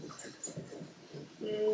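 Sled dogs whimper and whine at a kennel in short, overlapping bursts at moderate distance. A faint voice can be heard underneath, and the sound grows slightly louder toward the end.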